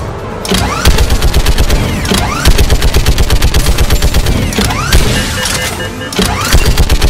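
Mounted gun in Mass Effect 3 Legendary Edition hammering out sustained loud automatic fire, with rhythmic pulses of shots and explosive impacts over an engine-like rumble, nearly continuous for seven seconds.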